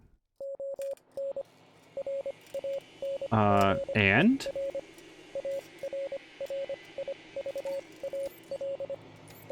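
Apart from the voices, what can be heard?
quiet beeping from the RV, video game Wasteland 3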